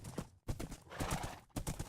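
Horse hooves clip-clop in the Minecraft video game as the horse is ridden, a quick rhythmic patter of soft thuds with a brief pause partway through.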